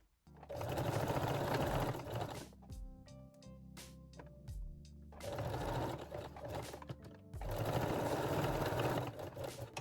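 A sewing machine runs a straight stitch along fold-over elastic in three loud, sustained bursts separated by short pauses, each with a fast whirring mechanical rattle.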